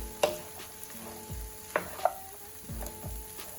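Cabbage with bacon cooking down in a pot over medium-high heat, a steady low sizzle under scattered clinks and scrapes of a utensil against the pot.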